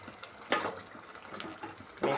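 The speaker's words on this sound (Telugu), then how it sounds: "టమాటా పేస్ట్ యాడ్ చేసిన తర్వాత గ్రేవీకి సరిపడా వాటర్ యాడ్ చేసుకున్నాం." Water poured into tomato chicken gravy for Bhimavaram-style kodi pulao, a short splashing pour with a couple of louder gushes over a low liquid burble, close by.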